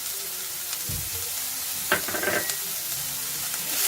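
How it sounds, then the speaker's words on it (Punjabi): Cabbage and green onion for veg chowmein stir-fried in a pan on high flame, giving a steady close sizzle broken by a few sharp tossing and scraping clatters midway, with no talking. "ਤੇ ਕੈਬੇਜ ਹਾਈ ਫਲੇਮ ਤੇ 1 ਸੈਕਿੰਡ ਲਈ ਭੁੰਨ ਲਵਾਂਗੇ ਇਸ ਨੂੰ ਹੁਣ ਐਡ ਕਰਾਂਗੇ ਗ੍ਰੀਨ ਅਨੀਅਨ"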